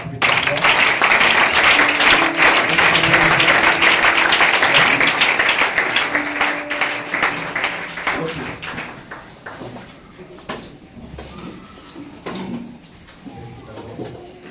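A church congregation bursts into loud, dense applause with cheers and acclamation, sustained for several seconds, then thinning into scattered claps and fading voices.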